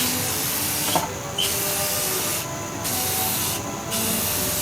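Spray paint hisses onto a motorcycle helmet in a loud, continuous rush, broken by three short pauses and dips as the can is moved and sprayed again.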